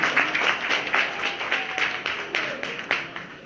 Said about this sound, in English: an applause for all the volunteers that are here